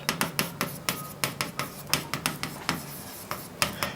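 Writing on a board during a chemistry lesson: a quick run of short, regular tapping and scratching strokes, close and moderately quiet, with no voice over it.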